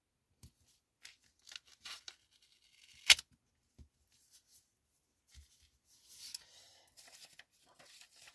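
Double-sided tape handled and pressed into place behind a broken object: a quiet run of scattered crinkles, small taps and soft tearing, with one sharp rip near the middle and a busier rustle of handling toward the end.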